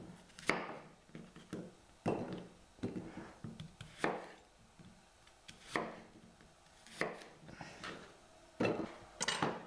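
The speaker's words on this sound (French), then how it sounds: "Je vais couper mes pommes." A knife cuts apples into small pieces on a board for cinnamon apple compote, making a series of crisp, close, irregular chops with short pauses between bursts.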